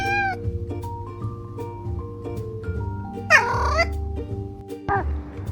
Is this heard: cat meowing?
yes